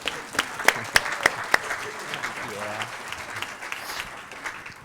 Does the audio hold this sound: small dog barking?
no